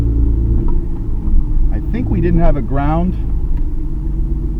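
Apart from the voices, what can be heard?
Nissan R32 GTR engine idling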